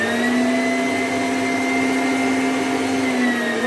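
An AVEX MG-280B electric meat grinder runs with 1.8 kg of meat, giving a loud, steady motor whine and hum that holds unchanged throughout, with no speech over it.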